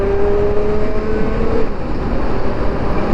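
A superbike roars past on a road near Mumbai with a loud, steady engine drone, followed briefly by a rising whine that drops away as it moves off.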